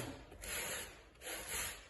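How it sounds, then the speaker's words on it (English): Two slow strokes of a sanding block rasp across a repaired plaster wall, each a soft scratchy sweep, faint and close, with a brief pause between them. "try to keep the area as small as we can that we're sanding"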